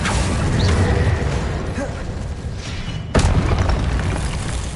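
Confringo spell blasts in Hogwarts Legacy, booming explosive bursts over dense noisy combat, with a sharp loud impact near the end.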